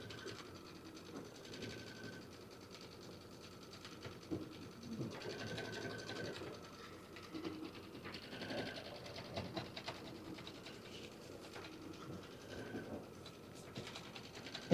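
A quilting sewing machine stitches an edge-to-edge quilt pattern, a quiet, steady mechanical whir and rapid needle chatter running continuously.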